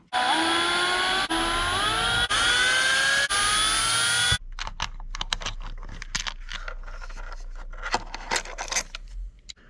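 A power driver whines steadily, its pitch wavering, as it backs screws out to remove the spur gear on a Traxxas X-Maxx RC truck, then stops, followed by close clicking and rattling of parts being handled.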